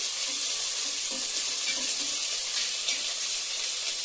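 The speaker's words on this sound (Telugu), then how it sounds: "ఉల్లిపాయ ముక్కలు బాగా ఫ్రై కావాలి" Onion pieces fry in a pan for a pav bhaji, giving a steady, close hiss of sizzling oil with a few faint stirring clinks and no talk.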